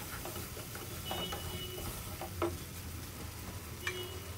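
Goat brain frying with garam masala powder in a pan, a low steady sizzle broken by occasional sharp clicks and scrapes of a stirring utensil, with no talking.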